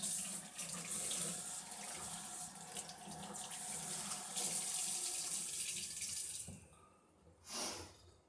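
A kitchen tap runs steadily as a container is rinsed out during home wine making, the water hissing and splashing close by before it shuts off, followed by a short final splash.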